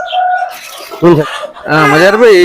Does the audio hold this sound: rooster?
yes